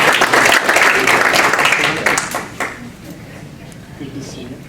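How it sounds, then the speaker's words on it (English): Applause from an audience at a school alumni awards ceremony, a dense wash of clapping that swells early and then tapers off, with voices talking underneath as it fades. "May I please have a round of applause?"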